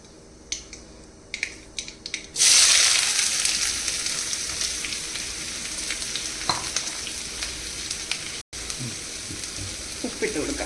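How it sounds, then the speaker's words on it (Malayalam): Sliced onions with garlic and green chilli hit a hot pan after a few scattered crackling pops, then fry in a loud, steady sizzle with intermittent stirring clicks and scrapes. "നമ്മുടെ സവാള ഇവിടെ വരണ്ടുകൊണ്ടിരിക്കുവാണ്."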